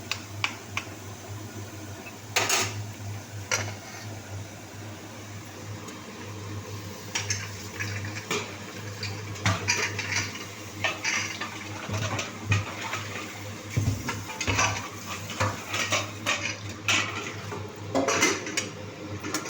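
Chickpea dal stirred in a cooking pot on the stove, with a spoon clinking and scraping against the metal in irregular bursts over a low steady hum, with no voices.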